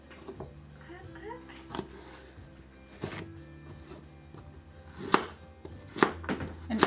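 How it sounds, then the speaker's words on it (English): Carrots chopped with a Starfrit ceramic knife on a cutting board, a handful of crisp, sharp cuts landing at uneven intervals and growing louder toward the end, with a voice talking quietly underneath. "now we're going to test it just by chopping up some carrots for our dinner"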